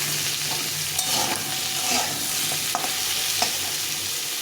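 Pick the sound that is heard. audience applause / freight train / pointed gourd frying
pointed gourd frying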